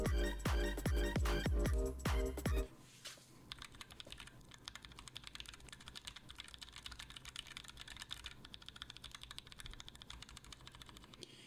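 Keys clack on a Gray Studio Space65 ISO mechanical keyboard: a few loud, deep keystrokes up front, then a long run of quick, light, continuous typing at moderate volume.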